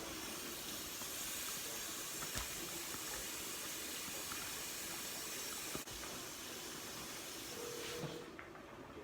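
A pot of brown gravy for beef liver simmering on the stove, giving off a steady, even hiss and faint bubbling that continues without a break and fades slightly near the end.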